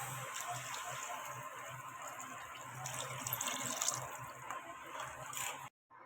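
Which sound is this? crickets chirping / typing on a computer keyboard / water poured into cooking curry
water poured into cooking curry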